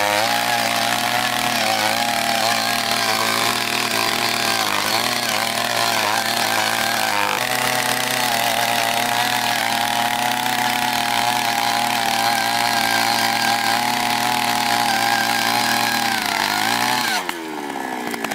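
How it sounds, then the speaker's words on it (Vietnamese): Takyo TK2PS two-stroke petrol earth auger drilling into soil with a 200mm bit. Its engine drones loud and steady at close range for the whole stretch, dips slightly in pitch once, then revs down near the end. "Bây giờ chúng ta hãy cùng khoan với chiếc mũi khoan có đường kính là 200mm."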